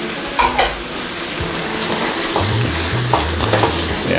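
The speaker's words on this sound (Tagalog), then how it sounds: "Stir lang po natin siya mga 1 minute again." Squid frying in a pan with a tomato sauce mixture, stirred steadily; a continuous close sizzle with scraping strokes and a few utensil knocks against the pan.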